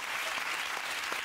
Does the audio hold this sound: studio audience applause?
yes